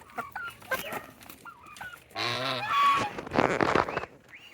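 Rhode Island Red chickens cluck and murmur nearby, with a louder burst of squawking clucks in the middle.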